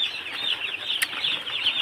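Thousands of broiler chicks crowded in a controlled poultry shed cheep in a dense, continuous high chorus, loud and close with no talk.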